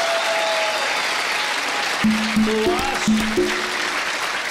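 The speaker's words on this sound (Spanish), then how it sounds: "yo tendré que regalar un aplauso para ella." Audience applause on a Colombian TV entertainment show, a broad wash of clapping under a singing or speaking voice with a melodic line over it.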